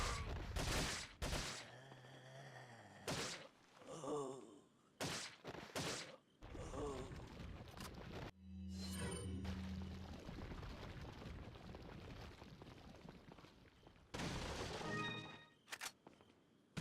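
A TMP submachine gun fires in Resident Evil 4, in several loud, sharp bursts separated by gaps, with game sounds between the volleys.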